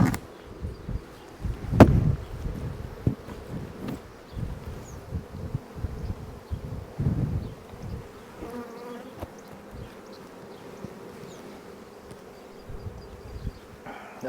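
Bees buzz steadily around an opened hive, a dense close insect hum that continues throughout with occasional handling knocks and no talking.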